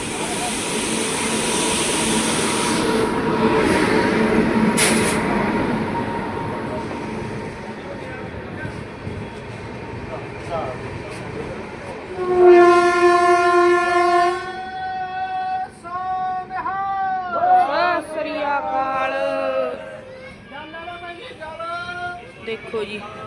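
A train bound for Hazur Sahib Nanded rumbles and clatters into a station in the open while a loud horn sounds repeatedly, with people talking and calling out nearby.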